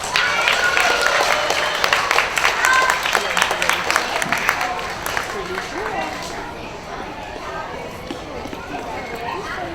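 Students and staff at a school assembly applaud a student, a loud, sustained wash of clapping from a large crowd that gradually thins toward the end.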